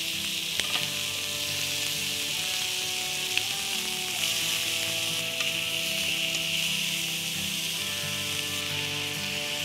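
Pork pieces and vegetables sizzle steadily in a frying pan, a constant close hiss of frying fat with occasional faint clinks and stirring.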